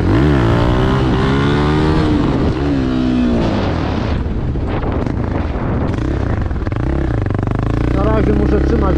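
A Beta Alp 4.0 350 enduro motorcycle engine revs loudly and close, its pitch rising and falling in waves, with some talking mixed in.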